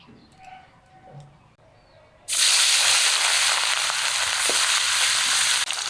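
Mustard oil hitting a hot wok, ready for frying fish, bursts into a loud, steady sizzling hiss after a quiet start and holds strong to the end with no talk.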